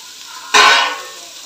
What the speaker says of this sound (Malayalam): ഒരു 3 സവാള ഞാൻ ഇട്ട് കൊടുക്കുന്നുണ്ട്